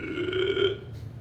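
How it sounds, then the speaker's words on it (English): A single loud, drawn-out belch, close and tonal, lasting about a second and ending in a brief breathy tail, with no one talking over it. "You hear a loud belch"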